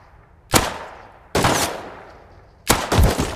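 Three loud, sharp gunshots in the survival video game Rust, about a second and a half apart, each with a short decaying tail, in the snow biome.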